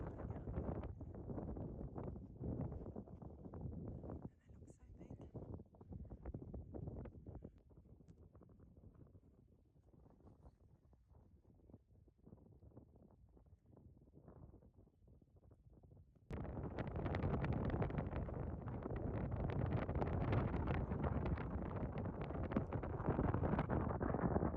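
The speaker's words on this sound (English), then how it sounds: "As you can hear, it was really, really windy out there" Strong wind buffets the microphone in the Sahara desert during a camel trek, a steady rough roar that thins out midway, then returns louder and denser for the final stretch.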